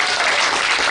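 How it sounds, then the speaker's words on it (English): Brief burst of audience applause at a live-streamed community gathering, loud and dense clapping filling the whole moment with no talk over it. "Dima, this applause is for you"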